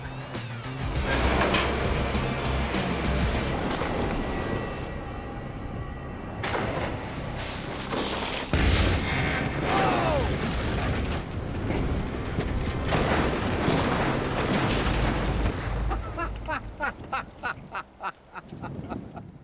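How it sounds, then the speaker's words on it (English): A car is crashed so its gas tank bursts into flames, a loud, dense roar of impact and fire with booming bursts that runs on for many seconds before breaking into sputtering pops near the end. "the gas tank took the brunt of the impact and did burst into flames"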